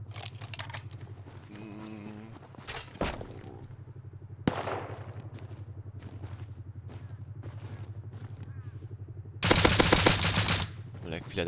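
Gunfire from the video game Rust sounds as sharp shots and rapid bursts, with a dense fusillade near the end, heard under quiet game background sounds.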